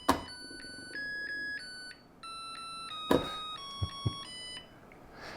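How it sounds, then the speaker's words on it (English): A Zojirushi pressure induction heating rice cooker plays its start-up chime, a bright, clear electronic melody of steady sustained tones over soft room hiss, with a few muffled clicks and thumps near the end. "Now, by default, it has this very pleasant chime."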